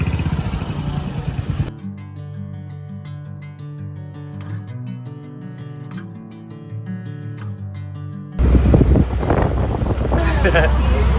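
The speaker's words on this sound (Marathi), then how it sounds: "बोट खूप हलते आहे बिकॉज वारा खूप आहे, त्यामुळे खूप जास्त हलते आहे बोट" Strong wind buffets the microphone aboard a rocking ferry, with heavy gusty rumble at the start and end and background music filling the quieter middle.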